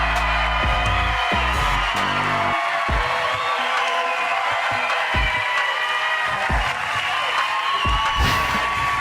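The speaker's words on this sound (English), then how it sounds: "did you also notice how they were giving him a standing ovation?" A large political rally crowd roars with sustained cheering and whooping during a standing ovation, a loud continuous wall of voices with occasional deeper shouts.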